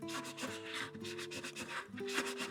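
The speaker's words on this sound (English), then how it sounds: "So I'm just using a hand sander" A small handheld sanding block scuffs painted edges and a rim, giving rapid back-and-forth rasping strokes that run continuously, close to the mic but fairly quiet.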